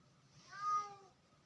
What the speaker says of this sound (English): I got a cat, it likes making noise